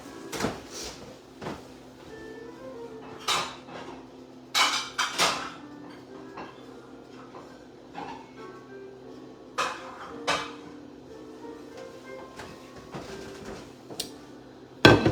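Dishes knocked and clattered while a plate is fetched in a home kitchen, a scattered series of sharp clinks and thuds at irregular intervals over a quiet low hum.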